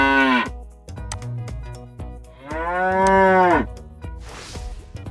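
A cow gives two long, loud moos close by, with a short pause between them and a softer breathy sound trailing at the end.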